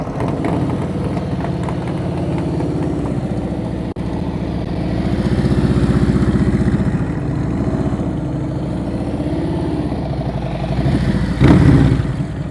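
A motorcycle engine burbles at low throttle during slow-speed riding practice in Florida, a steady close idle-like drone that swells and dips gently, with a brief rise near the end.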